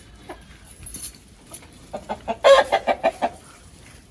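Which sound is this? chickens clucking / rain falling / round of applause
chickens clucking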